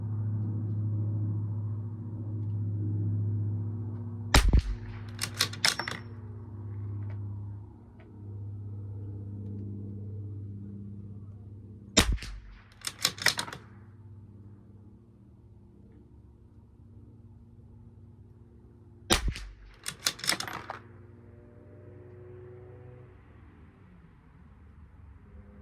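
A Bergara B14R rifle fires during a match, sharp reports each followed by a quick spatter of echoes, spaced several seconds apart over a low steady rumble, no voices.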